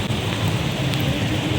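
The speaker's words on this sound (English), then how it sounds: "it's raining today, it's Halloween's day, and it's raining heavily" Heavy rain pours down on Leicester Square in London on Halloween night, a loud, steady, dense hiss of rainfall that continues without a break.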